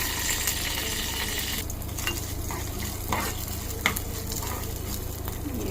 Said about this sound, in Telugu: ఇప్పుడు పోపు సామాను వేసుకున్నానండి.